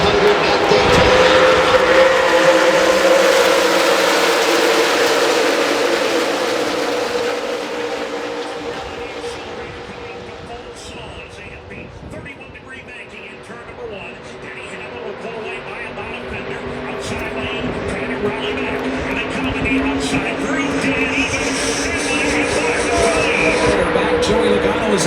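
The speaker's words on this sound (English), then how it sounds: "It is out, and we are racing here at Daytona." NASCAR stock cars race at Daytona during the Coke Zero Sugar 400, a loud sustained engine roar from the stands that swells, dips as the pack passes, then builds again, with crowd noise beneath.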